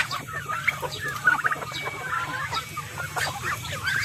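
Hungry backyard farm chickens cluck and squawk busily at close range, a dense overlapping chatter of short calls throughout.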